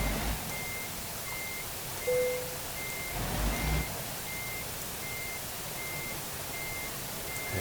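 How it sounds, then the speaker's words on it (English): In American Truck Simulator, a truck backing a trailer into a space gives out evenly spaced reversing beeps over a steady engine rumble, with a brief air brake hiss midway; no one speaks. "So we'll reverse this trailer in."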